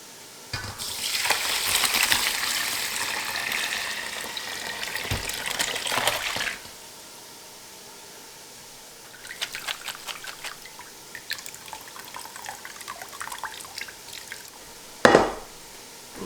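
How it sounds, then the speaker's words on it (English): Chicken stock pours from a pot through a fine mesh strainer into a big bowl: a steady, rushing splash for about six seconds, then softer trickles, drips and a closing clunk. "I'm gonna pour everything in here and strain the solids out"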